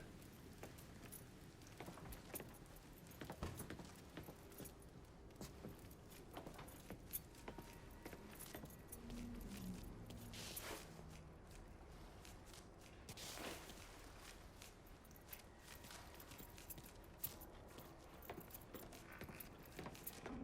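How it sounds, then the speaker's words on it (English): Truck keys jangle as they are picked up in the Mafia III video game, a light metallic rattle sitting within steady game ambience and low background rumble, with no speech over it. "I grab the keys to the truck, then we can get the fuck out of here."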